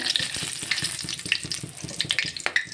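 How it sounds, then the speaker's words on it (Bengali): Cardamom, cloves, cinnamon and dried red chillies fry in hot oil in a pan, giving a close, steady crackling sizzle with small sharp pops throughout. "একটু ভাজা করে নেব।"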